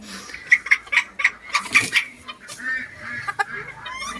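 Bantam chickens at a Khon Kaen breeder, kept free-range in a garden, cluck in a quick run of sharp calls, then quieter scattered clucks and rustling nearby.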